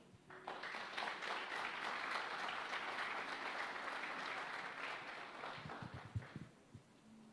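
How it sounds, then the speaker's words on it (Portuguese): A church congregation claps for the Lord in a dense, steady burst of applause that fills most of the stretch, then thins into a few scattered claps and thumps near the end; no one speaks. "Aplauda o Senhor."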